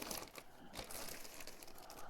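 A SOYO B550M motherboard in an anti-static bag is handled, the plastic crinkling and crackling continuously up close for about two seconds.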